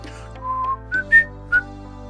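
A person whistles a short, wandering tune of a few separate notes, the pitch climbing then dropping, close and clear against a faint steady background hum.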